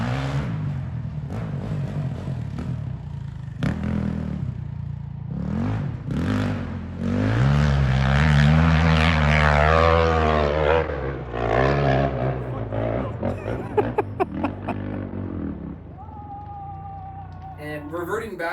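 A 2020 KTM 300 XC TPI two-stroke dirt bike revs hard on a hill climb, its engine note rising and falling in quick bursts through gear changes, loud and close.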